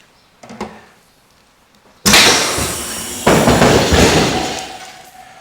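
A Porsche GT3 Cup car's pneumatic air jacks fire with a sudden loud, close hiss of rushing air, a second surge partway through, then a slow fade, after a faint knock before it.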